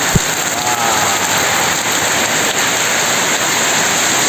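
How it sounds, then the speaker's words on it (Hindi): A downpour in Diphu roars as a constant broadband hiss of rain on surfaces, near and loud, with a faint brief knock at the start and no one talking. "ये देखिए बारिश"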